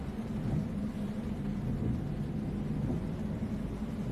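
Low, steady bus engine rumble heard from inside the quiet cabin in a bus driving simulator on a Petrópolis to Niterói route, faint and continuous with no talk.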